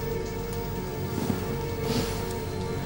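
Heavy rain pours outside as a dense, continuous roar that stays even and fairly loud. A low steady hum sits under it.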